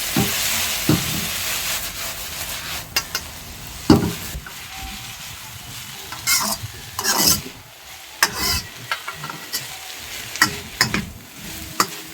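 Greens and a handful of sprouted urad dal sautéing in a pan, with soft frying and intermittent scraping, rustling stirs in irregular bursts, close and fairly clear.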